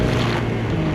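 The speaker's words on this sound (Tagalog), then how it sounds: "Ay, lakas ang hangin, grabe." Strong wind roars continuously, with a rough, gusty rush like open water and wind buffeting the microphone, on a road trip near Baguio City.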